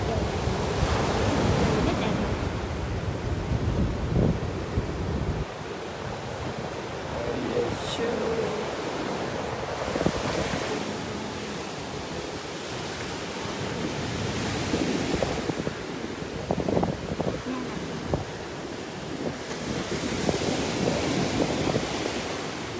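Ocean waves surge and wash onto the beach at Morro Bay while wind buffets the microphone, a steady close roar with rising and falling swells throughout, and voices are faintly present underneath.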